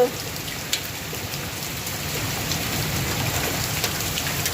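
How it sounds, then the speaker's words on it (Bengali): Heavy rain mixed with hail pours steadily, a dense hissing wash with scattered sharper pattering hail hits, continuous throughout and close by. "এত এত বৃষ্টি হচ্ছে, পড়ছে বৃষ্টির সাথে সাথে যাচ্ছে শিল পড়ছে"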